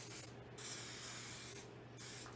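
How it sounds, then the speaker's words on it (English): Cooking spray hissing from an aerosol can as it coats a loaf pan for cinnamon quick bread, in two or three steady bursts close by, with no talking. "So I'm going to spray it so it doesn't stick."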